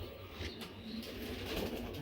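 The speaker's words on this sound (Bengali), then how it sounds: "দেখার মতো কবুতর এটা ভাই" Racing pigeons cooing in a loft kept for selling chicks, a low, steady murmur of coos running continuously through the whole stretch with no voices over it.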